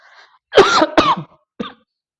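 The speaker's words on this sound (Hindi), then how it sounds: "देखो भाई जोश में बोल रहा हूँ, खाँसी आ रही है" Two hard coughs close together, followed by a shorter third cough after a brief pause, loud and near, with no talking.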